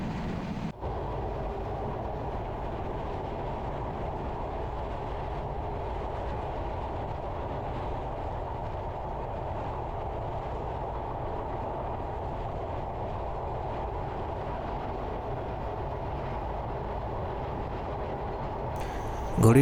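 The Ruposhi Bangla Express train rolling on rails, heard from inside as a continuous low rumble and rattle that stays steady throughout, with a brief louder burst at the very end.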